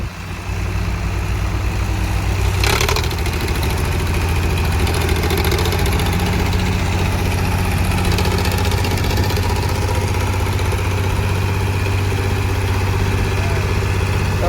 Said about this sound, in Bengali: এখন দুটো ট্রাক্টর লাগানো আছে